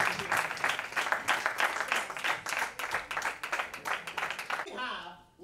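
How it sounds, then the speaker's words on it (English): Lively audience applause and clapping at a college annual festival welcoming a judge, a steady, rhythmic crowd clap that carries on for several seconds before cutting off abruptly, with a little cheering under it. "Can we have a huge round of applause and welcome our third judge for this event?"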